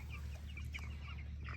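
Five-week-old chickens inside a Vevor metal chicken run, soft short clucks and chirps over a steady low hum, faint and somewhat distant.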